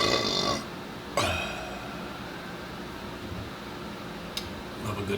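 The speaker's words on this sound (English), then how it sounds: "Love a good burp." A deep, drawn-out burp from a man drinking Citra-hopped beer opens the clip, followed by a second shorter burp, then quiet room tone.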